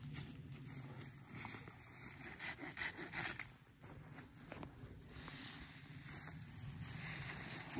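A new hand saw cuts through pine branches outdoors in repeated back-and-forth rasping strokes, close but fairly quiet, with no talking.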